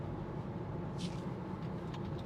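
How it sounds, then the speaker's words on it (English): Steady broadband road and tyre roar inside a Tesla Model 3 Highland cruising on a motorway in rush hour traffic, a continuous even hum with no talk. "there is a little more road noise"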